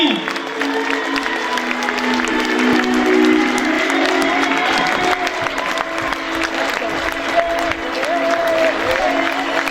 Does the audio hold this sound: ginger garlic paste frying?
no